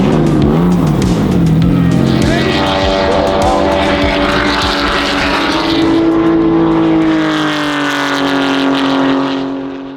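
Porsche race car engine howling on a track during a sprint-race qualifying session, loud and continuous throughout with rising and falling engine harmonics as it shifts and accelerates, close to the microphone.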